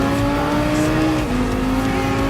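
Race car in Gran Turismo Sport accelerating hard, its engine a loud, sustained high-pitched drone whose pitch holds and briefly drops as it pulls away, with no talking.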